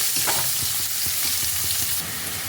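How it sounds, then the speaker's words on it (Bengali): Steady loud sizzle of onions frying in hot oil with salt, with repeated soft scraping knocks from stirring throughout. "পেঁয়াজটাকে হালকা লালচে করে ভেজে নিতে হবে"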